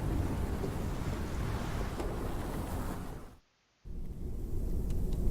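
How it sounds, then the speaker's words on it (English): Heavy thunderstorm ambience with rain and deep rumbling, loud and continuous, dropping to a brief silence before resuming. "4 weeks the storm had raged on."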